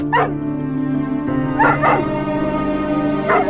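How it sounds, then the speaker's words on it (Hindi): A distressed dog whimpers and cries in several short yelping bursts, fairly close and clear, with a steady background tone underneath. "देखो ये कुत्ता कुछ ज्यादा ही रो रहा है।"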